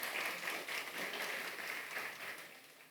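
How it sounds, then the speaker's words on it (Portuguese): Steady audience applause from a church congregation during a couples' sermon, a dense wash of many hands clapping continuously at moderate distance for several seconds. "Vamos aplaudir Jesus pela vida do casal"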